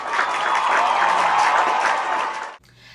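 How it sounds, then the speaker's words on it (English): Audience applause at a school debate staged as a class performance: steady, dense clapping from a room of students for over two seconds, cutting off abruptly into quiet room noise. "let's give a round of applause for Mr."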